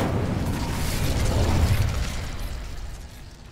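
An Incendio fire spell blasts in Hogwarts Legacy, a loud roaring whoosh of flame that swells for a couple of seconds and then fades into a crackling tail, heard alone.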